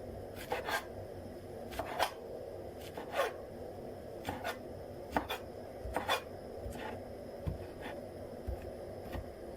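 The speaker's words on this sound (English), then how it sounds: "Cutting the coriander." A knife cutting fresh coriander leaves on a board, giving a series of short, crisp chops at an irregular pace, fairly close and quiet, with no talking.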